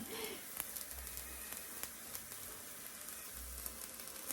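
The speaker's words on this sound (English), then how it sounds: "So just keep it boiling at a nice steady rolling boil." A honey and herb cough drop mixture bubbling at a steady rolling boil in a pan, giving a continuous close sizzling, crackling bubble with occasional louder pops throughout.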